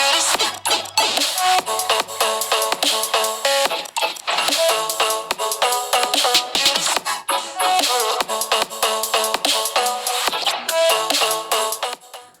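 Music played through the single mono speaker of a Redmi Note 10 Lite phone, a busy, bright, dense song sounding continuously and fairly loud with no talking over it.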